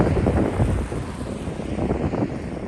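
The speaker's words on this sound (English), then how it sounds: "It's windy too much, so you don't hear it." Strong outdoor wind buffets the microphone at night in a St. Petersburg suburb, a steady loud roaring rumble with gusty pulses and no other sounds.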